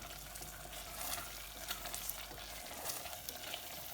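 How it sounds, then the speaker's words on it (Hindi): Lamb and potato curry sizzles and fries in a pan while being stirred, a soft continuous hiss broken by small scraping stirs, quiet and close. "अब इसे हम सिर्फ 2 या 3 मिनट के लिए, 2 मिनट तक थोड़ा हिलाएंगे"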